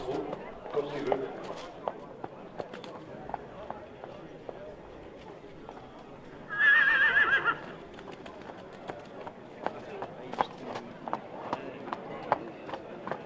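A horse walks and then trots at the Bulat-Pestivien horse fair, its hoofbeats a soft, steady clip-clop under nearly continuous talk and crowd noise.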